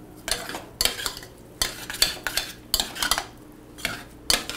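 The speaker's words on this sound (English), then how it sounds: "Then I'm just gonna stir it up." Whole wheat couscous stirred in boiling water, repeated close scraping strokes of a spoon against a pot in an uneven rhythm, alone without talk.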